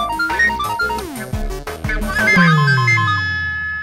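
A melodic electronic ringtone plays loud and close, a quick tune of tones that ends on a sustained chime fading out.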